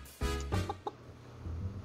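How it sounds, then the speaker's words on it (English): A golden chicken in the farming video game Pumpkin Days gives a few short, close clucks over a low background hum. "very golden chicken"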